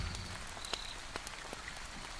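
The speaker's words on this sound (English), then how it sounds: "Rain" Soft, steady rainfall patters on a surface with scattered distinct drops, faint and unbroken, with no voices over it.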